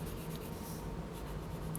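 Blue colored pencil shaded lightly across paper using the side of the lead with little pressure, a faint continuous soft scratching and rubbing close up, steady for the whole short stretch with no voices.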